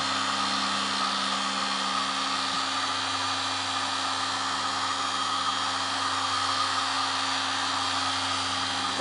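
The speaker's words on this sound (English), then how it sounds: "you got to make sure you have a heat gun that is hot enough" A heat gun blows hot air onto wood-burning torch paste on wood in a steady, loud, unbroken whine and whoosh that holds level throughout, with no voices.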